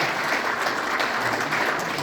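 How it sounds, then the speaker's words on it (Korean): Steady, loud audience applause at a formal inauguration ceremony in Busan, welcoming guests as they are introduced. Dense clapping fills the whole stretch without a break. "힘찬 환영의 박수 부탁드립니다."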